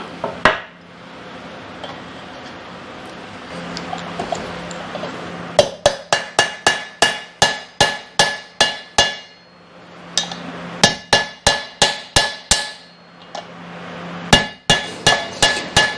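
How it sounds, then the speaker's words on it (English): An aluminum tool taps a pinion bearing cup into a Dana 25 axle housing, giving sharp metallic hammer strikes in quick even bursts, some softer shuffling between them, close and loud. "I'm probably going to be using this aluminum one to tap this cup in."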